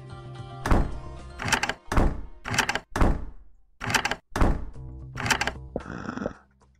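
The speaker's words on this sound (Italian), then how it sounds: "Non avevo mai sentito il rumore della porta." Blocky door in the Minetest game, a series of short, sharp thunks and clacks repeating in quick irregular bursts, close and fairly loud with brief silences between them.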